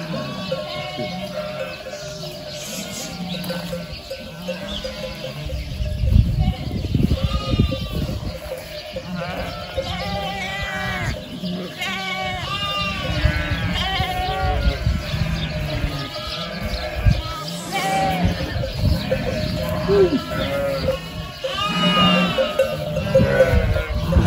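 A flock of sheep bleats repeatedly at a village pasture, with overlapping calls near and far, some clanking bells, and people talking intermittently among the animals.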